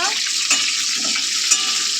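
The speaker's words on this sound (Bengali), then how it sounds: "আলুগুলো একটু ভাজা ভাজা হয়ে গেছে, দেখতে পাচ্ছ।" Potatoes fry in hot oil in a pan while being stirred, a bright continuous sizzle with two sharper scrapes of the utensil, close and loud, with no talking.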